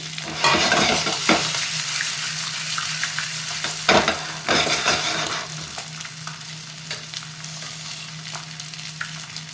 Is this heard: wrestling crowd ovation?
no